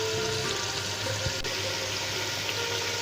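Water poured from a tap into a cooking pot of masoor lentils for a Lahori chickpea and chicken curry, a steady close splashing and running flow lasting the whole stretch with no talk.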